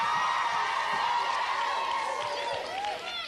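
A studio audience at a game show cheers and whoops for the contestants, a loud, continuous crowd roar with scattered shouts that eases slightly toward the end.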